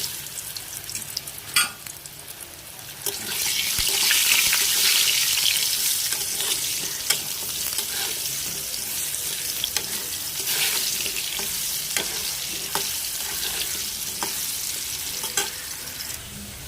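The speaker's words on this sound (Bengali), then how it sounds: "আমি প্রথমে দিয়ে দিচ্ছি আলুটাকে ভালো করে ভাজবো।" Potatoes frying in hot oil in a pan for khichuri, a steady dense sizzle building after a few seconds and holding loud throughout, with occasional stirring clinks and scrapes and no talking.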